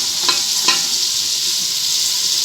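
Dal mash ingredients sizzling and frying in a pan, a steady bright hiss with two brief stirring clicks early on, close and continuous with no talk.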